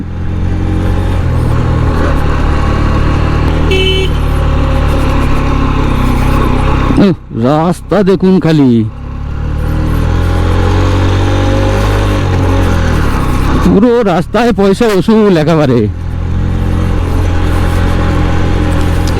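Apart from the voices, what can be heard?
125cc motorbike riding on Darjeeling road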